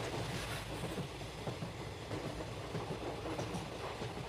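A passenger train running from Howrah Junction to New Delhi gives a loud, continuous rumble with a rhythmic clickety-clack of wheels over the rail joints, heard from on board with no voices.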